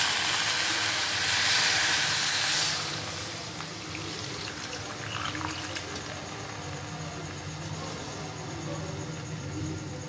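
Strained tamarind water pours into a cooking pot for a kara kulambu, a steady close hissing splash that is loudest at first and then settles into a softer continuous trickle.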